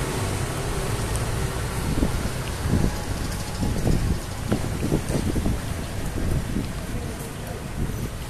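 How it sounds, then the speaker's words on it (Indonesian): Wind buffets the microphone on a busy market street, a constant rumbling roar with gusts rising and falling and faint voices beneath. "sini ada anginnya ya, jadi bukan hanya panas saja, dia ada angin"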